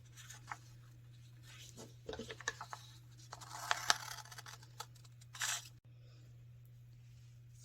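Paper scissors cutting out paper template pieces, faint scattered snips and rustles of paper close by over a low steady hum.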